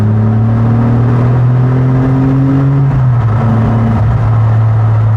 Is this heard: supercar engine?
yes